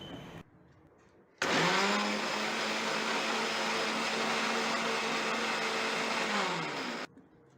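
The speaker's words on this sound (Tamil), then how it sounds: "கேரட்டை மிக்சியில் போட்டு நம்ம வந்து நல்லா அடிச்சுக்க போகிறோம்." A mixer grinder whirs loudly and steadily as it blends carrots with a little water, starting abruptly, running about six seconds at close range with a constant motor whine, then cutting off.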